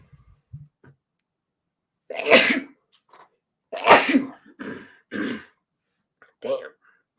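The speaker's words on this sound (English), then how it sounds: "And then I gotta sneeze really bad." Several sneezes and throat-clearing bursts from a person during a live discussion of House of the Dragon Episode 8, close and loud, separated by short breaths and quiet gaps.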